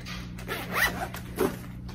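A bag's zipper is pulled open in two short rasping strokes, close and clear over a low steady hum, with no talking.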